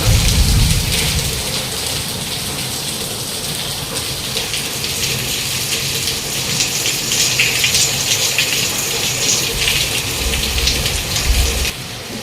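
Heavy downpour falling outside a house during a thunderstorm, a steady loud wash of rain on surfaces throughout with low rumbling underneath and no talking.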